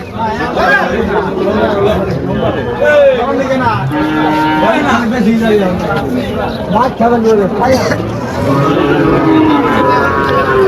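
A Sahiwal cow moos in long, low calls beneath loud, close conversation and cattle market chatter.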